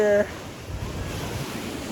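Pacific Ocean surf at an overcast beach rolls in as a steady, close wash of waves with some wind noise on the microphone, after a brief tonal sound right at the start.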